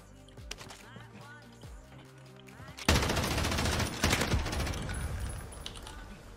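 A machine gun in the Call of Duty Warzone video game opens up in a loud, sustained rapid burst that dominates the second half, following quieter in-game clatter and movement.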